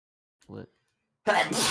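A sudden, loud sneeze bursts out over a voice chat, following a brief spoken word, with a sharp breathy onset and a noisy release.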